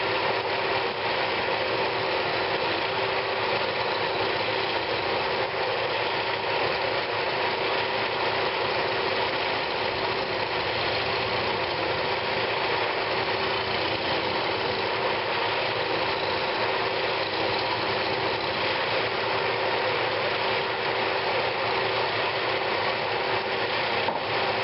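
Steady scraping hum of hollowing a walnut hollow form on a wood lathe, a continuous grinding, whirring texture with no pauses, fairly close and unbroken by talk.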